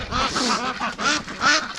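Mature breeding ducks near a barn give a run of loud, nasal quacks in quick succession, several close calls rising and falling with short gaps between them.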